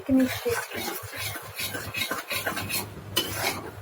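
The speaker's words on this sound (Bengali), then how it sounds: "মাই দেখেন সুজিটা হালকা করে ভেজে নিবে" Semolina lightly fried in a kadai, stirred with a spoon that scrapes and clinks against the metal over a soft sizzle, close and continuous, with brief voices nearby.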